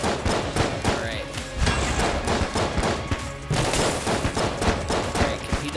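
Rapid bursts of cartoonish gunfire from Enter the Gungeon rattle in quick rhythmic volleys, loud and dense, with light thuds mixed in.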